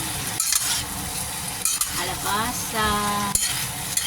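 Mixed vegetables (squash, bitter gourd, okra, mushroom and eggplant) sizzle steadily in a pan while a utensil stirs and scrapes them in several bursts; a voice speaks briefly over the frying.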